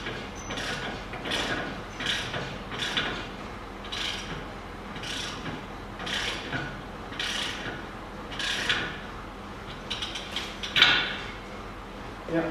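A ratchet wrench tightens a nut on Land Rover camper suspension, with repeated bursts of close, sharp clicking in an even rhythm of about ten strokes, separated by brief pauses and faint background noise.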